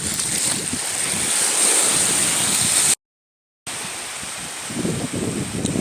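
Ocean surf on Khao Tao Beach in Hua Hin, Thailand, as a steady broad wash of waves mixed with strong wind buffeting the microphone, broken by a short silent gap.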